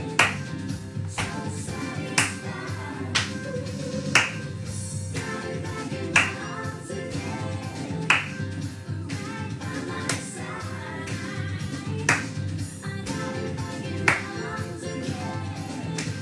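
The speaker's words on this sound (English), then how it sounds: "When we clap lower, we clap behind us, like this." Hands clap in a steady rhythmic pattern at about 121 BPM, sharp crisp claps every second or so over a Motown music track, the claps alternating in front of and behind the body.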